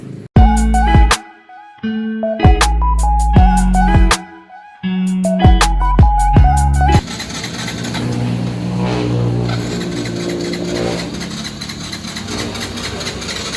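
A Yamaha Mio i125 scooter engine with a misfire runs in choppy, stuttering spurts that cut out and catch again several times, then settles into a rougher, noisier running drone, heard up close.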